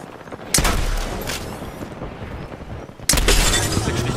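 Gunfire in the video game Apex Legends, two sharp loud bursts of shots roughly two and a half seconds apart, each followed by a short ringing tail.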